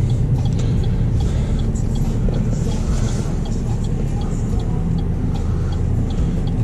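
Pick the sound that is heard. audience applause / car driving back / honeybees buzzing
car driving back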